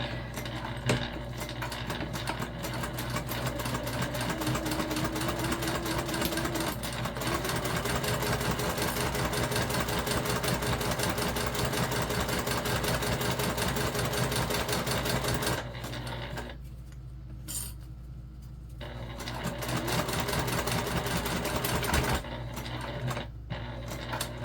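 A sewing machine stitching fabric for a Mini Magda sewing project runs in a long steady whirring buzz with rapid needle rhythm, briefly dropping and pausing near the end before resuming, close and loud.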